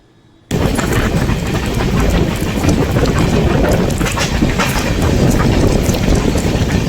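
Loud, continuous rumble of a moving passenger train on the tracks from Pune to Haridwar, starting abruptly and staying steady, with faint rhythmic clatter underneath.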